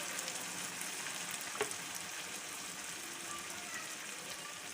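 Soft, steady sizzle of hot oil in a chicken karahi as roasted crushed white cumin goes in, a continuous faint frying hiss with one small clink partway through.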